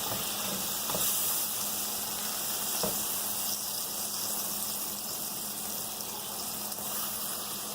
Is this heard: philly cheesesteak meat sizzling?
yes